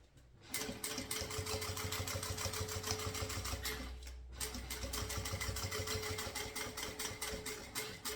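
A sewing machine stitches a synthetic crossbody bag, running in a fast, continuous mechanical rattle for several seconds, pausing briefly, then running again close up while backstitching the seam ends.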